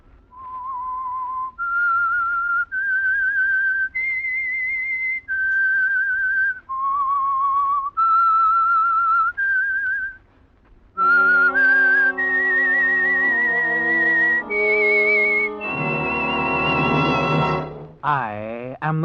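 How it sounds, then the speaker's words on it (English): A whistled radio theme tune for The Whistler mystery program, a clear melodic line of sustained notes stepping up and down, alone and loud, followed by a richer orchestral phrase. "That whistle is your signal for the Signal Oil Program"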